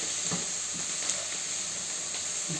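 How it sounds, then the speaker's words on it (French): Onions sizzling and hissing steadily in a hot pan while being stirred, a close, continuous frying crackle with occasional soft scrapes, no talking. "Donc je vais tourner mes oignons. Parce qu'il ne faut pas non plus que ça crame."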